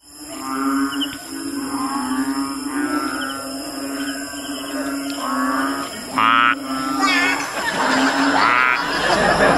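Deep, resonant banded bullfrog calls repeat in drawn-out, bellowing croaks, loud and close, with a high insect-like drone running steadily behind them.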